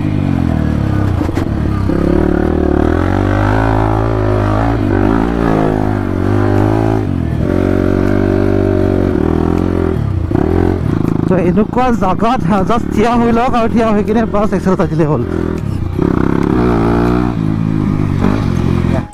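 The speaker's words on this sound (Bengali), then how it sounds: "বাকি বাইক ধুনীয়াকৈ ষ্টাৰ্ট হৈ আছে এতিয়া" A Tiger dirt bike idles and revs steadily on a hilly jungle trail, its engine drone loud and close throughout while someone talks over it.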